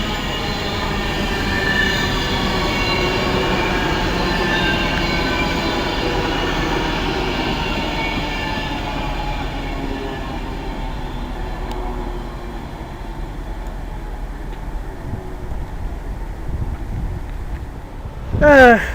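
Class 390 electric train, unit 390046, arriving at Birmingham International station, a long rumbling roll of wheels and squealing rails that gradually fades as it slows, with someone talking over it.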